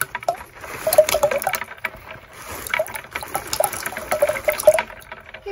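Water and shells being poured into a fish tank, a trickling, splashing flow with faint clinks, moderately close, pausing briefly midway before pouring again.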